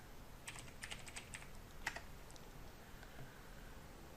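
A few quiet, scattered keystrokes tap on a computer keyboard in an otherwise faint, still room.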